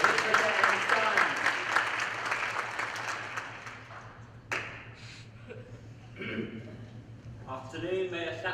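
Theatre audience applause during a stage performance of The Mystery of Edwin Drood, a dense burst of clapping that fades over several seconds, followed by actors speaking.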